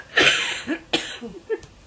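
A few short, sharp coughs in quick succession, fairly close and moderately loud, with brief pauses between them.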